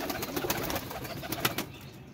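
Pigeons coo softly amid a busy background of fluttering and rustling, with a few sharp flaps or clicks mixed in.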